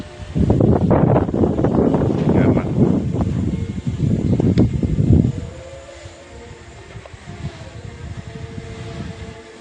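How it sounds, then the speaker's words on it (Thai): Strong wind buffets the microphone outdoors near a home, roaring in loud gusty bursts for about five seconds, then easing to a softer, steadier rush. "โอ้ลมพัดค่อนข้างแรง"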